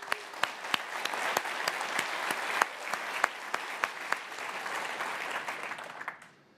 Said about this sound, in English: So if you can give them a round of applause, I would appreciate it.